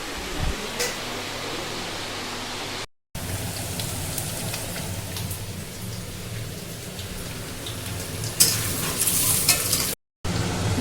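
Meat, chicken or mutton, sizzling and being stirred in a pan during a family Bengali cooking session, a steady crackling hiss with scraping stirs that rises louder near the end, briefly broken by short cuts.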